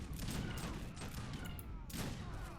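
Massed musket and rifle volleys in the Age of Empires III Wars of Liberty strategy game, a dense continuous fusillade of overlapping shots with brief louder bursts, heard alone.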